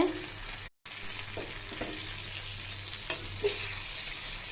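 Sweet potato frying in a pan over medium-low heat, stirred and turned: a steady close sizzle with a few soft scrapes and knocks from stirring, and no talk.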